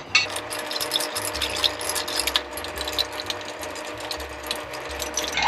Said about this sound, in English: Spoon. Standard stir, you know, 50 times or so.